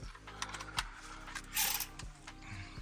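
A few sharp mechanical clicks and ratcheting snaps as a Front Runner ladder locks into place on a Land Rover LR3, with a short scraping burst midway; no talking.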